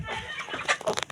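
Broiler chickens cluck in a short burst of several close, overlapping calls, with no talk.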